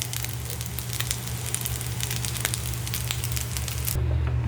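Rice frying in a hot pan, a steady bright sizzle and crackle that runs without a break and swells slightly louder near the end, close and alone with no talking.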